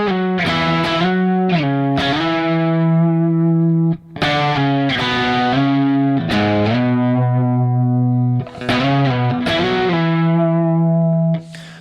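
Electric guitar played through its humbucker in split-coil mode, with distortion and effects, strumming sustained chords and octave shapes in a loud, steady passage with brief gaps between phrases, no voices.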